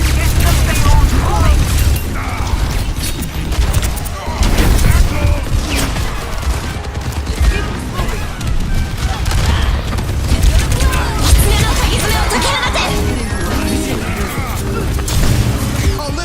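Rapid weapon fire and explosions in an Overwatch 2 ranked match, dense bursts of shots and booms mixed with game effects, loud and continuous under a player's talk.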